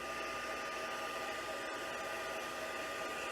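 An electric die cutting machine for paper crafting runs with a steady, even motor whir at fairly low volume, broken only by a brief click partway through, with no talking.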